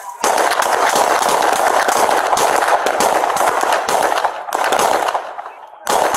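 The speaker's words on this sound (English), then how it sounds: "Shots fired! Shots fired!" Rapid gunfire rings out during a police shootout at a police station, a dense loud burst of shots lasting several seconds with brief gaps, mixed with shouting.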